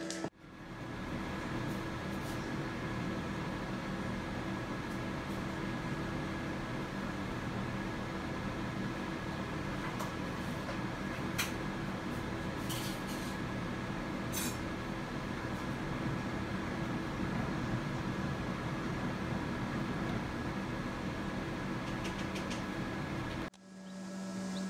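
An egg incubator running empty at temperature, giving a steady, even mechanical hum with a faint constant whine and a few tiny clicks, unbroken for over twenty seconds before cutting off.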